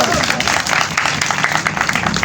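Crowd at an MQM Pakistan rally in Karachi applauds a candidate, with dense, steady clapping and cheering that fills the whole stretch at close, loud range.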